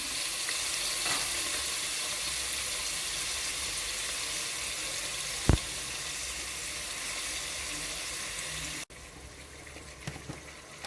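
Onion, two medium tomatoes and curry leaves sizzling in a pan for a chicken and potato semi gravy, a steady loud frying hiss with a sharp clink midway and a quieter tail after a brief cut.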